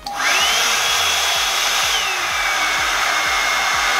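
Revlon One Step hair dryer and styler on its low setting, a loud continuous fan whine starting abruptly and holding steady, with a faint rhythmic low thumping beneath it and no voices.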